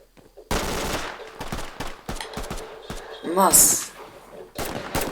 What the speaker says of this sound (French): En gros j'ai un fusil à pompe